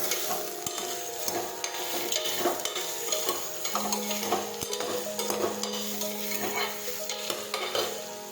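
A spoon stirs ridge gourd curry in a pan on the stove, with steady scraping and clinking strokes over a soft, continuous sizzle, close and fairly loud.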